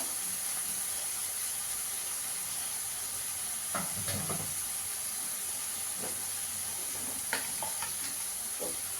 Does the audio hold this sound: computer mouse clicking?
no